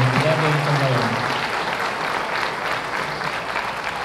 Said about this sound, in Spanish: Nuevamente un aplauso para cada uno de ustedes.